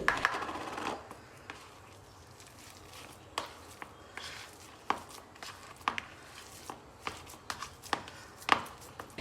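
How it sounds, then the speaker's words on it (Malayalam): Peeled boiled potatoes are mashed in a home kitchen with a smasher, giving irregular soft thuds and clacks against the bowl, fairly close but quiet, with pauses between strokes. "അതിന് ശേഷം ഒരു സ്മാഷർ ഉപയോഗിച്ചിട്ട് അത് നന്നായിട്ടൊന്ന് ഉടച്ചെടുക്കുന്നുണ്ട്"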